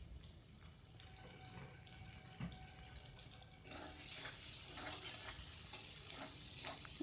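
Prawn malai curry masala with salt stirred and fried in a pan, a soft continuous sizzle with scraping stir strokes that grows louder and busier halfway through, heard close with no talk.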